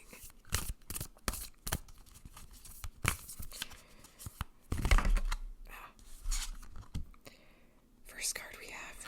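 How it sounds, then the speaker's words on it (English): Tarot cards are shuffled close up in quick riffles and soft taps, a crisp papery rustle in bursts with whispered talk between them. "enjoy the sounds of me shuffling"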